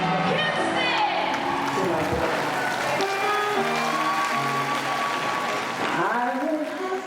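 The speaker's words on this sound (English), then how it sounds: "Start clapping and make some noise for Whitney Houston's mom" An audience claps, cheers and whoops for Whitney Houston's mother, a loud, dense roar sustained throughout with shouted voices and tonal sounds rising above the clapping.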